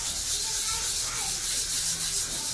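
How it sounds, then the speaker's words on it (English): A pink eraser serves as a sanding block, gently rubbing clay bole laid over gesso for oil gilding, producing a steady, close, scratchy back-and-forth sanding sound with no speech. "I'm going to give it a quick sanding."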